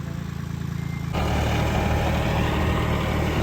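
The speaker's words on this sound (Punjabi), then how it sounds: "ਦੇਖੋ ਬਾਈ ਟਰੈਕਟਰ ਸਲਿੱਪ ਕੱਢਣ ਨੂੰ ਕਰਦਾ ਆ ਟਰੈਕਟਰ" A 5210 tractor engine rumbles steadily nearby, its low droning throb growing louder and heavier partway through.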